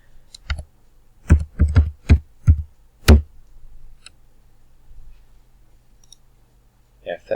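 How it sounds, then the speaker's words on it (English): Mouse clicks in design software while a folding shovel sheeting assembly is being built: a handful of sharp, close clicks, several in quick succession, then a pause and a faint brief sound near the end. "Left click on that, left click in the space"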